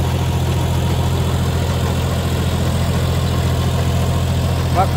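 Tractor engine chugging steadily while pulling a rotavator through a field, a loud, close, continuous low throb with rhythmic mechanical vibration and no clear talking.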